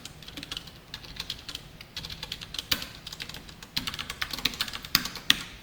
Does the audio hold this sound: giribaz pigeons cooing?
no